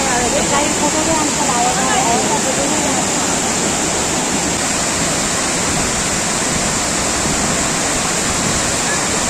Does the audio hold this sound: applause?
no